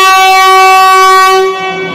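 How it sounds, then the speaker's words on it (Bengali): Loud, sustained multi-tone horn of a Vande Bharat Express departing Howrah station, holding steady for over a second before easing off into trailing station noise. "বন্দে ভারত বেরিয়ে যাচ্ছে"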